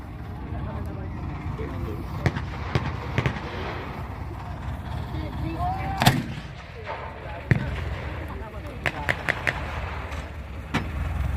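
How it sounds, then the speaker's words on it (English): Rifle and gun fire at a military reenactment, scattered sharp cracks and bangs at irregular intervals, some distant and some louder, over a rumbling outdoor background with a person talking. "The Allied troops return fire from their rifles, but the pack gun is a massive weapon."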